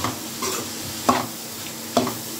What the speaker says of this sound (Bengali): 5 মিনিটের মতো হাই হিটে আমি ভাজা ভাজা করে নিয়েছি।